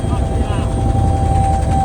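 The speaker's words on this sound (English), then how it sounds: "Get to the chopper!" A helicopter thrums steadily nearby with a continuous rotor and engine drone, while a voice shouts over the noise.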